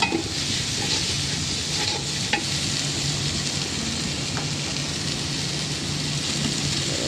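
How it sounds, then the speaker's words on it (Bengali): Chili powder being stirred into hot oil in a pan, a steady loud sizzle and crackle with light scraping of the spoon, continuous and close, with no talking. "তো মরিচের গুঁড়োটা দিয়ে আমি লাড়াচাড়া দিয়ে"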